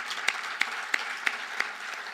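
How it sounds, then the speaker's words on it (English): Quiet, thin applause at a distinguished alumni lecture, a soft patter of clapping with five evenly spaced sharper claps standing out roughly every third of a second. "Oh, please kindly help me applaud Openyi."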